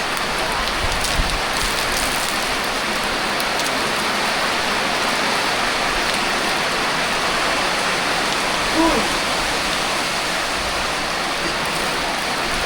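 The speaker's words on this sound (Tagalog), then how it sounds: "Malakas na yung ulan." Heavy rain pours down in a dense, steady hiss of drops striking surfaces, loud and constant throughout, with a brief faint voice near the end.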